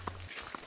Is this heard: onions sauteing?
no